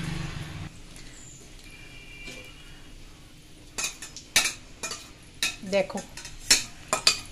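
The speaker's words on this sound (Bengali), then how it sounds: "শুকনো লঙ্কাটা ভালো করে ভেজে নিতে হবে।" Dried red chilies frying in oil as they are stirred in a pan, heard as a faint sizzle with repeated sharp spatula scrapes and clacks against the metal, and one brief spoken word.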